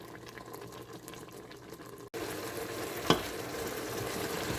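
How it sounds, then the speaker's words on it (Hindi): Steady sizzling and crackling of beef frying with yogurt in a pan, with a brief clatter of stirring partway through; no voices. "दही के साथ इसको मैं मीट को भून रही हूँ।"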